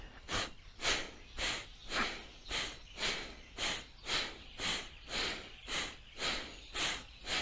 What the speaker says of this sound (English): So we start with 9 times, 9, 18, 36 times, abdominal breathing.